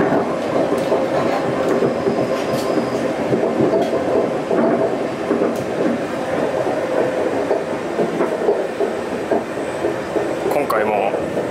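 A local train in France rolling through an industrial area, heard from inside the carriage as a continuous rumble with rhythmic wheel clatter, steady and fairly loud throughout.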